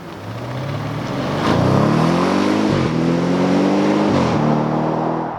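An Audi RS6 Performance with a ZF 8-speed torque-converter gearbox accelerates hard, its engine note climbing steadily then dropping sharply at two quick upshifts before rising again, loud and close with no talk.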